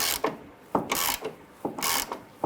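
A ratchet wrench loosens a nut on the front lower control arm of a 1994-2004 Ford Mustang, giving several short bursts of rapid clicking separated by brief pauses, heard up close and alone.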